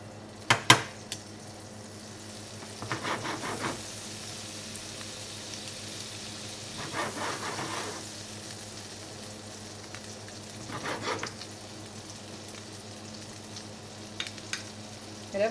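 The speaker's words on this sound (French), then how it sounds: "Donc vous prenez une poêle anti-adhésive de préférence. Vous mettez une petite parcelle de beurre." Butter melts in a non-stick frying pan with a soft, steady sizzle, joined by a few faint utensil clinks and scrapes, ready for brioche slices made into French toast.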